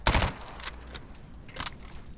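MP5 submachine gun firing in a video game: a quick rattling burst of shots up front, then scattered softer clicks and a second short burst, fairly quiet overall.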